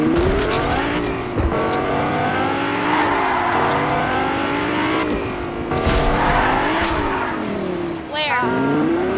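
Car engine driving and revving in a video game, loud and continuous with rising pitch sweeps and brief skidding, while several people talk excitedly over it.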